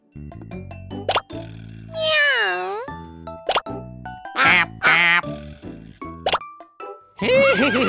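Cartoonish duck quacks come in short bursts between plopping and boinging effects and a meow-like cry, with a playful bouncy rhythm.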